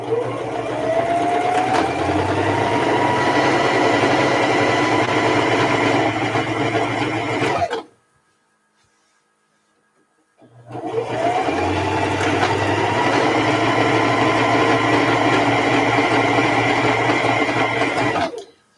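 A quilting sewing machine runs steadily and close by in two long stitching bursts, separated by a brief silent pause of a couple of seconds. No one speaks.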